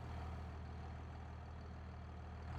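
A tractor engine idles in Farming Simulator 25 as a steady, low, continuous rumble, close and even throughout, with no talking.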